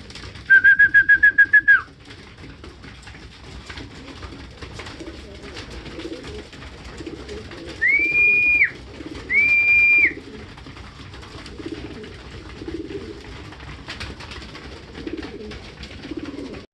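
Several short pigeon calls stand out over a low background: a rapid trill at the start, then two brief whistled notes later, with quiet ambience between.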